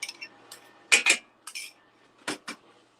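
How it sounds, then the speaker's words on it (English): A spoon clinking against a metal pot while stirring pectin into warm cranberry-colored tomato jam: several sharp, close scrapes and clinks in uneven bursts, with quiet pauses between. "and stir it again."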